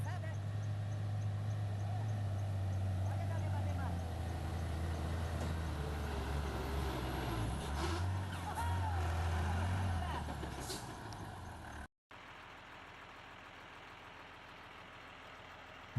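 Heavy off-road trucks rumble along in a convoy on the rough Boi Preto jungle road in Colniza, Mato Grosso, a steady loud low engine drone with a hiss like air brakes, then a cut to a quieter low hum.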